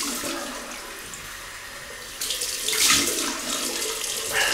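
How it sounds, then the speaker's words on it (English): Cold tap water runs into a bathroom sink while a face is rinsed after a shave with a Gillette short comb double-edge razor, a steady close hiss that swells louder partway through, with no voices. "Sunday, let me just rinse with cold water"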